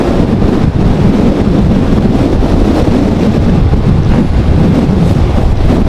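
Strong sea wind buffets the microphone on a road running between the sea on both sides toward Dhanushkodi near Rameswaram, traveled by bike, a loud continuous roaring rumble throughout.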